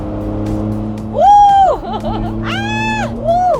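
A small sports car climbs uphill in fourth gear, its engine droning steadily, then rising and falling in revs in two loud, close surges, as heard from inside the cabin.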